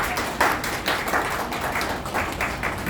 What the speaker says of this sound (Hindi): हम सब मिलकर तालियों से उनका स्वागत कीजिए।